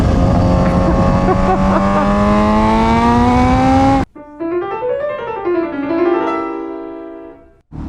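Supercharged Kawasaki ZH2 motorcycle engine revving hard, loud and close, with rising harmonic sweeps, a quick shift, then a second run of climbing and falling revs that dies off at the end.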